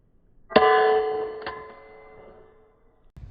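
A metal impact strike against the Cyelee Wolf enclosed red dot pistol sight gives a sharp, ringing clang that decays over about two seconds, with a second lighter hit partway through.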